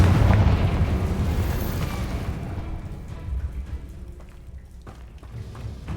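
Confringo fire spell exploding in Hogwarts Legacy, a heavy, rumbling boom that hits loudly at the start and slowly decays into crackling debris and a low tail, with no voices.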